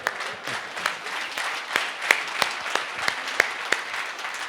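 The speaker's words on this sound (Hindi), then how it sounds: "इसमें तालियां बज जाए." Steady crowd applause, many hands clapping together in a continuous wash with a few sharper claps standing out, no voices.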